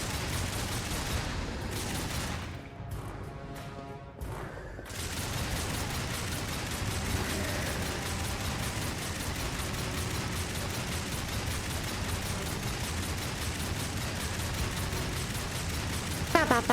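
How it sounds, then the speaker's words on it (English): Dense, continuous gunfire aimed at kobolds in a video game, a loud, rapid volley that keeps going almost unbroken, with a short dip in the middle. "Look at them, standing there, getting shot at."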